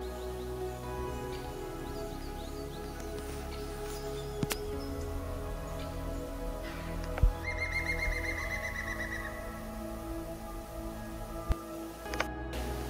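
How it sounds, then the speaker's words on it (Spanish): A green woodpecker, known locally as the 'neighing bird', gives a brief laughing series of evenly spaced ringing notes at Laguna de Uña, moderately distant over a steady backdrop of other birdsong and ambient hiss. "Por su sonoro canto se le conoce como pájaro relincho."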